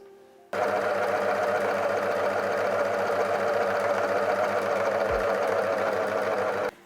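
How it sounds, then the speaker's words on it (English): A sewing machine runs in one continuous steady burst of about six seconds, stitching the crotch seam of two shorts leg pieces placed right sides together, its rapid needle hum close and unbroken after a brief quiet start. "Place 2 leg pieces right sides together and sew along the crotches"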